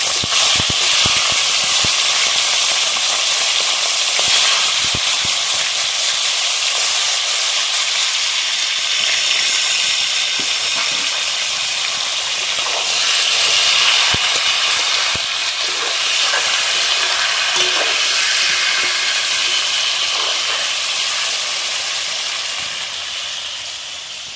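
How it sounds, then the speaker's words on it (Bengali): Chicken pieces frying in well-heated oil for a malai curry, a steady loud broadband sizzle and crackle running continuously throughout, close by, with no talking. "তেলটা ভালোভাবে গরম করে নিয়েছি এবার আমি মাংসটা দিয়ে দেবো মাংসটা ভালোভাবে ভেজে নেবো"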